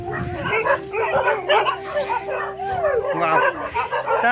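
Dogs at a dog centre in Namche Bazaar bark, yip and whimper close by in repeated bursts, with a person talking among them.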